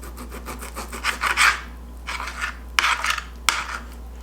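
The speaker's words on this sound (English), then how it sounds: "So I'm going to cut my stew beef across the grain" A knife cuts stew beef into thin strips across the grain on a board in a kitchen, making several separate close rasping strokes with quiet pauses between them.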